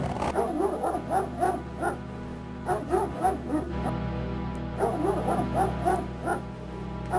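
In the King's Quest 7 adventure game, a dog barks loud and near in repeated bouts of yips and bow-wows. A short quiet spell breaks the steady run of barking, over a low background hum.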